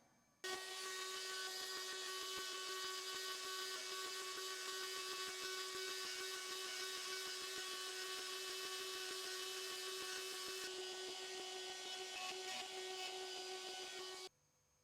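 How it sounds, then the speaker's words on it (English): Continuous abrasive scraping of a guitar fretboard being carved to a radius on a rocking jig, worked slowly back and forth, steady and close for about fourteen seconds with a constant tonal hum underneath. "just rocking this back and forth, slowly carving out the radius"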